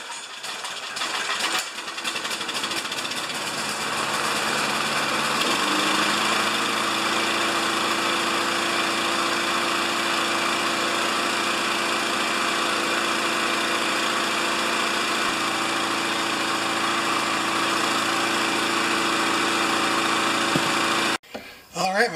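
Murray mower with a Briggs & Stratton engine, fitted with a new BR2LM spark plug and a cleaned carburetor, runs steadily with a loud, even drone for about twenty seconds before cutting out abruptly at the end.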